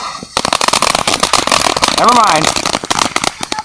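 Firecrackers and fireworks going off, a dense rapid string of sharp crackling pops, loud and close, with a whistling firework rising briefly in the middle and someone speaking a few words over the noise.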